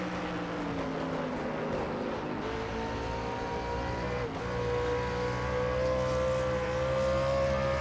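Race car engine droning steadily in onboard audio from a racing video game at Phoenix, pitch gliding up and down through gear changes, loud and continuous with no talk.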